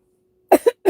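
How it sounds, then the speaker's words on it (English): A person coughs in short bursts, two quick close coughs followed by a third after a brief gap, loud against near silence. "Sorry for the cough."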